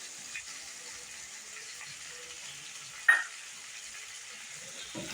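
Tomatoes and green garlic fry in a pan with potatoes and aubergine for a wedding-style vegetable curry, giving a faint, steady sizzle with a single sharp clink of a utensil midway.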